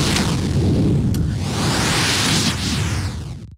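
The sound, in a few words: video game magic fire blast attack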